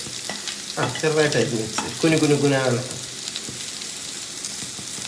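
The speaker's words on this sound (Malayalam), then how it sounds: "ഇനി ഇതിലേക്ക് നമ്മൾ ഇഞ്ചി, വെളുത്തുള്ളി, പച്ചമുളക് അതിടുക." Chopped ginger, garlic and green chili sautéing in a hot pan, with a steady sizzle and stirring throughout while someone talks over the middle stretch.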